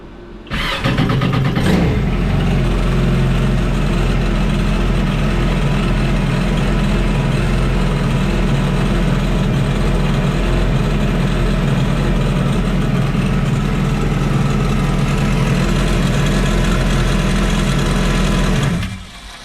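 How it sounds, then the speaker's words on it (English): A Yamaha FZR/FZS SHO WaveRunner engine cranks over and fires, then idles loudly and steadily for about fifteen seconds before cutting off abruptly. "I'm gonna start it for a quick second, check the level"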